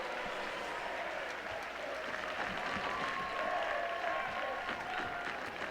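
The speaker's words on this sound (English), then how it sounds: "He gets a big round of applause from Sounder fans anyways." Soccer fans in a stadium applaud steadily at a Sounders vs Timbers preseason friendly, a broad, distant wash of clapping with crowd murmur and a faint whistle-like tone.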